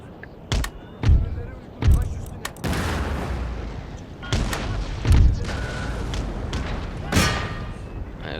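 Cannons and musket fire boom across an Empire Total War battle, repeated heavy thumps spaced irregularly with crackling volleys between them, while a voice talks over the din.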